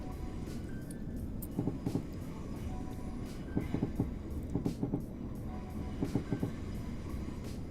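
Train from the Roblox game British Railway running on rails, with a steady low rumble and repeated clusters of rhythmic wheel clicks over the joints, close and continuous throughout.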